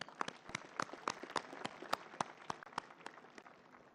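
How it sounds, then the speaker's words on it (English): Audience at a Greenwich University ceremony clapping for a speaker, sparse distinct claps in a loose, moderately quiet rhythm that thins out toward the end. "A big round of applause for him once again"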